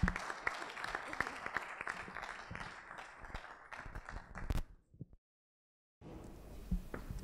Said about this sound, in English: please give the biggest round of applause for Mr. Muhammad Azfar Ahsan